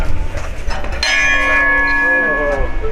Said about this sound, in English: No, that's a really loud gong.